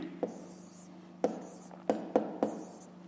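A pen or pencil writes a fraction on paper in a few short, crisp taps and strokes, quiet and close against a faint steady hum.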